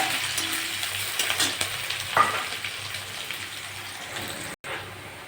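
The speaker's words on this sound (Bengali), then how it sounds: "বড় একটা পেঁয়াজ কেটে নিয়েছি পেঁয়াজটা দিয়ে দিলাম" Chopped onion sizzles in hot oil with a bay leaf in the pan, a steady close frying hiss with a few brief pops and stirring sounds, then a short cut near the end.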